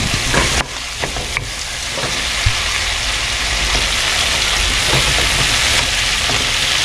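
Shrimp seasoned with a little salt frying in a pan, giving a steady loud sizzle throughout, with a few scraping stirs of a utensil near the start.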